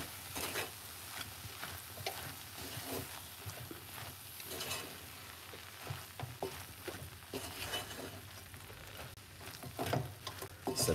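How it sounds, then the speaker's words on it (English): A spoon stirs eggplant and sweet potato curry in a pot, making soft, irregular scraping and gentle bubbling sizzle that stays faint and fairly even throughout, with no voices. "just give it a nice stir like this"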